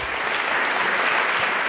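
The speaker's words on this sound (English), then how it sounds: "Let's have a round of applause for Jeff Bezos." Sustained audience applause rings out for Jeff Bezos at an Internet Association event, a dense, even wash of clapping from a crowd with no talk over it.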